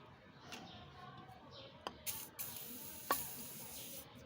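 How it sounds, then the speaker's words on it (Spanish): Penetrating lubricant is sprayed in short bursts onto a car's CV joint and suspension parts, several quick close hisses over a quiet background. "Ahora sí que un chorro de afloja todo para que se afloje."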